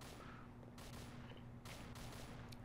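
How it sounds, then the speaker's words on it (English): Bursts of distant gunfire in the VR game Stand Out in rapid volleys, separated by short pauses over a constant background hum. "I definitely like how I can tell where the gunfire is coming from"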